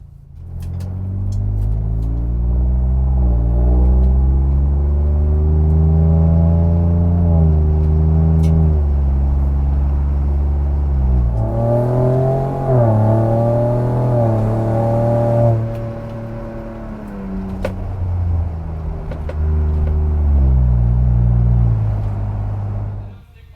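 A 2021 Ford Bronco fitted with an MBRP race 3-inch perforated muffler accelerates and cruises, giving a loud, close exhaust growl whose pitch climbs through gear changes over a sustained twenty-odd-second drive.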